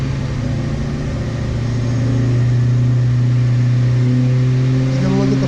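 A 1995 Ford Mustang with an automatic transmission and bolt-on upgrades runs on a dyno, its engine holding a steady loud drone that climbs slightly in pitch and intensity toward the end.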